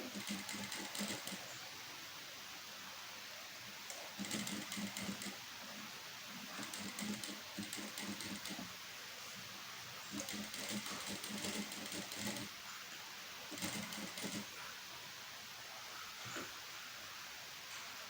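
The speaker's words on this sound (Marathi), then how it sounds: "मी आता फूट बदलत बसले नाही आहे याच्यावरच मी टीप मारून घ्यायला लागले" Sewing machine stitching a blouse neckline, running in several steady whirring bursts separated by short pauses, close and fairly loud with no talking.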